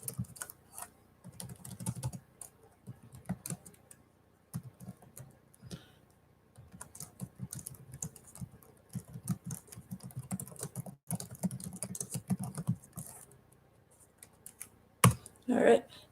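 Typing on a computer keyboard during an online morning yoga class, bursts of soft, rapid clicks in uneven runs with pauses, close by, with faint room noise and a sharp knock near the end.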